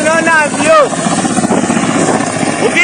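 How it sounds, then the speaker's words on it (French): Helicopter of the American delegation landing at Uvira, a loud steady rotor and engine roar close by, with shouting and ululating voices of a crowd over it. "Un hélicoptère de la délégation américaine Blackwater a atterri ce vendredi 23 janvier 2026 à Uvira"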